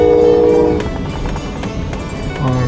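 A Coast Starlight passenger train rumbles along with rhythmic clatter, and a brief horn tone sounds at the start and returns near the end.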